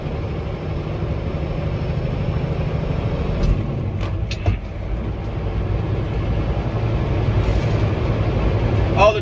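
A heavy truck engine climbs the Grapevine toward Tejon Pass in sixth high gear at about 1400 RPM and 35 mph. A loud, steady low drone with road rumble holds throughout, with no talk.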